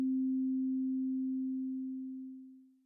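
A single Teenage Engineering OP-1 synth note, a pure, steady sine-like tone that holds and then fades out slowly over a long release, heard alone and quiet.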